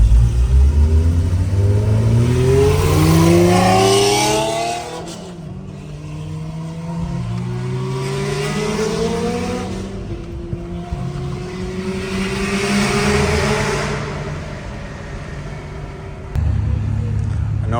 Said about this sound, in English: That's the Porsche 964 RWB.